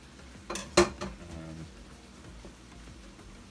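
Sliced carrots tumble into a hot pan for a pork tenderloin and noodle stir-fry, giving a couple of sharp clattering hits followed by a softer, steady sizzle and light scraping, close and alone with no talking.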